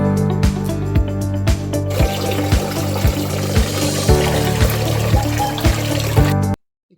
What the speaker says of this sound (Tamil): இது மாதிரி நல்லா வாஷ் பண்ணிக்கோங்க.